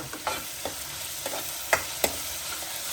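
Ginger garlic paste frying with onions in a pan, a soft steady sizzle broken by several sharp spatula scrapes and taps at irregular intervals, close by and with no speech.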